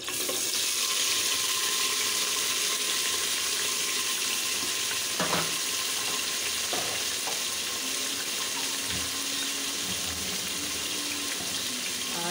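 Onion, tomato and green chili frying in hot oil with whole garam masala and a bay leaf, a steady loud sizzle running throughout with a few faint clinks near the pan.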